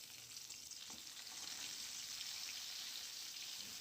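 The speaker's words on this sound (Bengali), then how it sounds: "তেল দিয়ে আমি মাছগুলো এবার ভাজার জন্য দিয়ে দিয়েছি।" Pieces of rohu fish frying in hot mustard oil, a quiet but steady sizzle that thickens partway through, with faint crackles and no speech.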